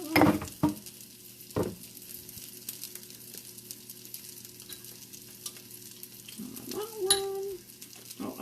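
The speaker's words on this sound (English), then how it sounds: "keep an eye on my turkey. It's going to cook very quickly" Turkey frying in a pan gives a steady, low sizzle throughout, broken by a few clattering pan and utensil knocks near the start and a brief squeak of cookware later on.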